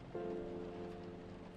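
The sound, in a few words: rain ambience in video game Coffee Talk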